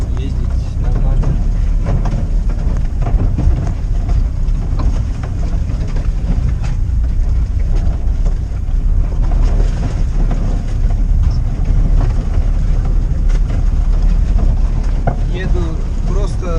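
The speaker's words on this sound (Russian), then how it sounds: "Еду просто на первой передаче, просто включенным на 4 ВД." A UAZ Patriot SUV crawls over bumpy ground in first gear with four-wheel drive engaged, a loud continuous low engine and cabin rumble with jolts and rattles, while someone talks over it.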